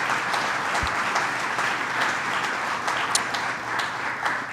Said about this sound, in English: let's give John Burke a round of applause for opening up